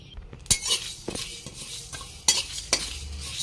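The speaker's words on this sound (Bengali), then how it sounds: "মৌরি, মেথি আর গোটা জিরে, সর্ষে, সব মশলা একসাথে দিয়ে একটা মশলা তৈরি করে নেব, হালকা করে ভেজে।" Fennel, fenugreek, cumin and mustard seeds lightly frying together for a spice mix, with a soft sizzle under a few sharp spoon scrapes and clinks against the pan, close and fairly quiet, with no voices.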